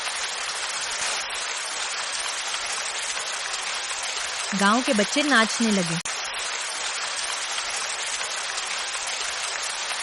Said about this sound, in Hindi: बिजली चमकी और बरसात शुरू हो गई।